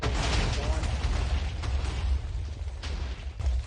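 A TNT after-explosion in a modded video game, heard as a loud, sustained, distorted rumbling boom that fills the whole clip with no pause, harsh and clipped, with no voices over it.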